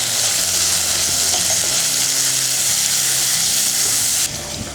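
Onions and tomatoes with salt sautéing in a pan for a fish curry, a loud continuous sizzle and hiss with stirring throughout, dropping abruptly in level just before the end.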